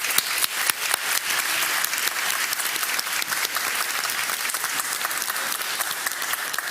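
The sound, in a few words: audience round of applause after debate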